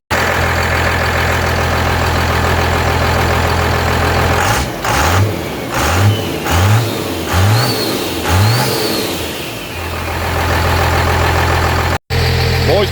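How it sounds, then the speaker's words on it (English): A Cummins 12-valve diesel truck engine with a newly fitted turbo cranks in several rhythmic pulses, then settles into a loud, steady idle with a brief rev near the end. "So let's go ahead and get the truck started."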